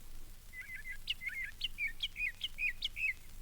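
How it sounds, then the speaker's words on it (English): Bright, chirpy northern mockingbird song of short repeated whistled phrases, delivered in a quick steady series, clear and fairly close over a faint low hum, in a garden. "A part of that beauty is the song of the mockingbird."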